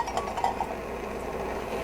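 A metal cup set down on an Optimus Nova camping stove makes a few light metallic clinks early on, followed by quiet background hiss.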